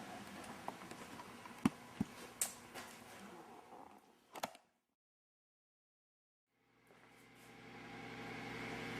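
A few scattered clicks and handling knocks give way to silence, then a motor spinning a magnet wheel starts at its lowest speed, a low, steady hum that swells gently and keeps running.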